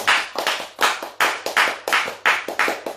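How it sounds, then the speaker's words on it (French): Congregation clapping in acclamation during a worship service, a steady rhythmic series of sharp, loud unison claps at roughly even intervals, with no other voices. "Nous acclamons comme un message."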